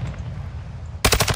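Machine gun fire in Call of Duty Warzone 2.0 breaks out abruptly after a second of low background rumble: a loud, close burst of rapid rattling shots with no talk.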